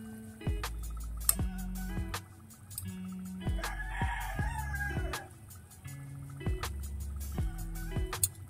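Neighbouring roosters and chickens sound close and repeatedly: a run of loud clucks and calls, with one drawn-out crow in the middle, all set against a low thumping beat.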